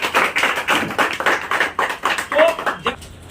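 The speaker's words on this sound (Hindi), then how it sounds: "एक बार आरसीएम के लिए ताली बजा दीजिए" A seated audience at a sales talk claps at the speaker's request, a close burst of roughly rhythmic hand claps of uneven strength that begins to thin out near the end.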